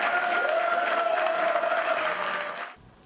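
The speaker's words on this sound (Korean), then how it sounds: "승기를 장담하지 못했던 선거 캠프에서는 환호와 박수가 터져 나옵니다" Cheering and applause erupt in an election campaign office as a candidate's win is confirmed: dense, steady clapping with a sustained shout running through it, then a sudden drop to near quiet at the end.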